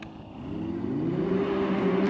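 A Can-Am Maverick X3 side-by-side fitted with an Evolution 3RWI upgrade accelerates hard, its engine note climbing steadily in pitch and growing louder over about two seconds, close and alone with no talking.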